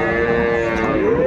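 A Sahiwal dairy cow at a cattle market lets out one loud, close, sustained moo.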